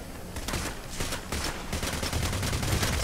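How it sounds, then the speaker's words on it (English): Sniper gunfire in Payday: The Heist during a bank heist, a dense barrage of sharp cracks and noisy bursts piling up continuously and loudly with no gaps. "Ah, I'm being shot by snipers."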